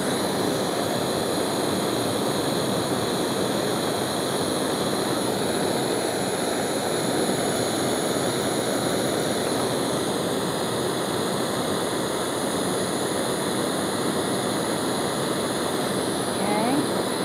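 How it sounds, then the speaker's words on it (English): A torch flame roars steadily and loudly while an enamel bead is heated and spun on a mandrel, a continuous broadband rush that never lets up. "Just spin it very quickly in the flame."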